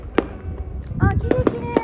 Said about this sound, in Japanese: あ、花火だよ、花火だよ。